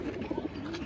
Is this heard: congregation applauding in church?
no